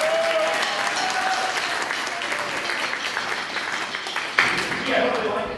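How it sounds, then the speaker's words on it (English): Concert audience applauding Dakota, a student who arranged the next piece at a Martin Luther King Jr. winter concert; steady, dense clapping fills the room throughout with a brief louder burst near the end. "So let's give him a round of applause"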